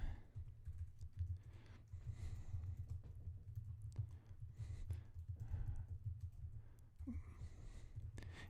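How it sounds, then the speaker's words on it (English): Fast typing on a computer keyboard at close range, with quick irregular key clicks in bursts over a low steady background hum and no talking. "let me just finish typing and not talking"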